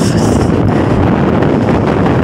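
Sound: strong wind blowing on an Idukki hilltop

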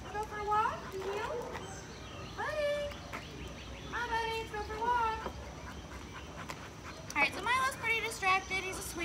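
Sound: Lab mix dog

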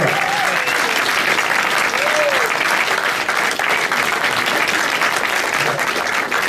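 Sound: audience round of applause

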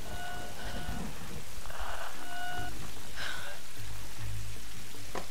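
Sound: rain in the Tomb Raider video game

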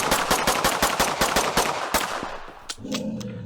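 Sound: gunshots at zombie in indie video game One Way To Life

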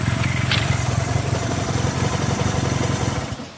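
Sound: 1971 Honda CB175 Super Sport motorcycle engine running

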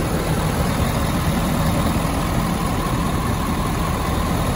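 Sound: 2017 Ford F-250 6.7 liter Power Stroke diesel engine running

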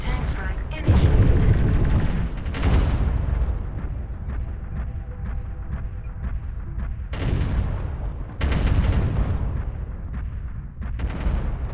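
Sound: tank strike artillery explosions in a video game

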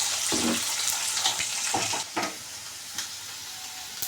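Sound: chillies frying and being stirred in a pan

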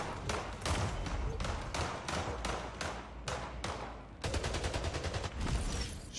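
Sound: gunfire in video game Splitgate

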